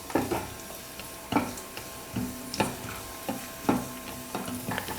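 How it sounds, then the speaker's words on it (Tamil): Cashews and raisins fry in ghee in a pan, a soft continuous sizzle broken by repeated scraping clinks of a spoon stirring at an irregular rhythm, close by, with no voices. "முந்திரி திராட்சை ரெண்டுமே நல்லா வறுபட்டு வந்துருச்சு"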